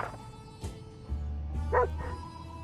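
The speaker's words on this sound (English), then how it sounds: "a pair of animal eyes flashed in the darkness, and their owner started growling" A dog-like animal in the 60 Seconds! Reatomized video game growls and yips in the dark, with short vocal bursts over a low sustained rumble, close and moderately loud.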